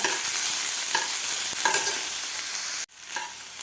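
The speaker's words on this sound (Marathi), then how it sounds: "कांदासुद्धा आपल्याला एक मिनिटभर व्यवस्थित फ्राय करून घ्यायचा आहे" Onion fries in a pan for a mixed vegetable paratha filling, a steady sizzle with repeated scraping stirs before the sound cuts out abruptly and resumes more quietly.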